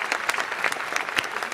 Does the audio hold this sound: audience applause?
yes